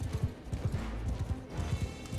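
Horse troop hooves pounding in Mount & Blade II Bannerlord, a rapid, continuous gallop of overlapping clip-clops, close and fairly loud, with no speech over them.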